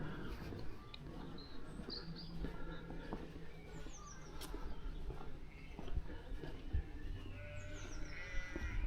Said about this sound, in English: Now you can hear the sheep